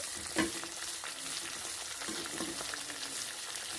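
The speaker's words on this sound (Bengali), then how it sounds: "আমি ততক্ষণ লো ফ্লেমে তেলের সঙ্গে উপকরণগুলো নেড়ে চেড়ে ভালোভাবে" Herbal hair oil ingredients, later joined by amla, fry and get stirred in oil over a low flame, giving a soft continuous sizzle with occasional faint scraping of the stirring.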